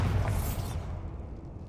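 Bombarda blasting spell in Hogwarts Legacy, a short deep boom with a bright burst at the start that quickly fades into a low rumbling tail.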